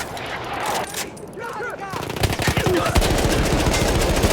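Gunfire in the video game Battlefield 1, a loud sustained burst of rapid automatic shots that grows denser midway, with game sounds mixed in and no clear talk over it.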